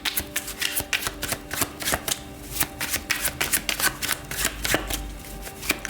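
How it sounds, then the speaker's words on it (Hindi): Tarot cards being shuffled by hand, a continuous run of crisp riffling flicks and slaps in quick uneven rhythm, close and clear with no talking. "शफल कर लेते हैं कार्ड्स को ऑप्शन 3 के लिए।"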